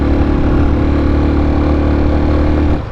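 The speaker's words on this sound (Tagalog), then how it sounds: "Hirap na hirap yung mga sasakyan oh." Large vehicles on a steep uphill stretch of the Manila–Bicol road, their engines droning and labouring loudly and steadily up close before easing off at the end.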